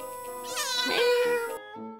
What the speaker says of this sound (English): You could be the owner of a rehabilitated, adorable kitten.